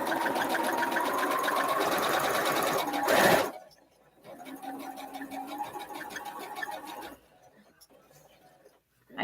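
A sewing machine stitches Arrowhead quilt blocks, running in close, steady mechanical bursts of rapid needle clatter, stopping briefly between runs with a short rustle of fabric, then starting again and cutting off.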